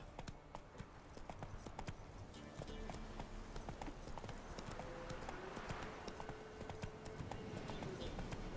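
Roach the horse gallops in The Witcher 3, a steady rapid clip-clop of hooves running throughout against outdoor game ambience, moderately loud with no talk.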